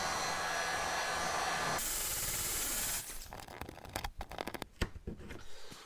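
Heat gun warming adhesive on a C6 Corvette Z06 emblem, a steady blowing hiss for about three seconds that then stops, followed by scattered scraping and tapping handling noises close by.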